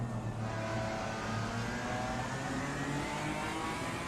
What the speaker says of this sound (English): Absolutely love the sound of this BMW.